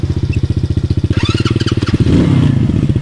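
Mopeds pull away through a forest, their small engines chugging in a steady loud pulse that rises in pitch as they accelerate, with a brief higher engine whine over the top and no talk.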